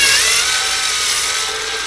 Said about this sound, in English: Take screws out.